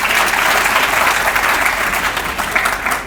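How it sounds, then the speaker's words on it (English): Loud, close applause from the audience at a leadership academy graduation ceremony, a thick continuous wash of many hands clapping for about three seconds with no speech over it. "Give yourself a round of applause."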